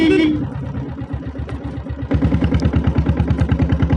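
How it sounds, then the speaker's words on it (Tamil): A 7.5 hp diesel Bullet motorcycle engine running nearby, a rough throbbing thump that steadies and grows louder after a brief lull, with a short burst of other noise at the start. "வண்டி சீருது ஃப்ரெண்ட்ஸ், பாருங்கள்."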